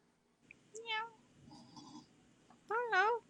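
Apollo the cat meows twice, close and clear, a short mew followed by a longer rising one, while a person nearby speaks softly and imitates the meowing.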